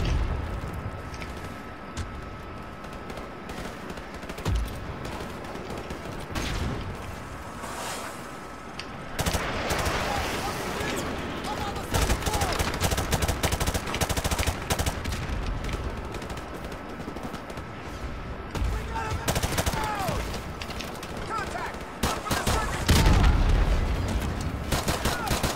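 Enemy gunfire in Modern Warfare Remastered, repeated bursts of automatic fire and loud booming blasts, some close and some farther off, continuing through the whole stretch alongside game noise.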